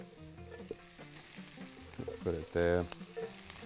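Hot oil frying an ingredient until crisp for a garnish while cooking Bahraini biryani, a steady sizzle and crackle under a man's speech, with a louder burst of bubbling near the end.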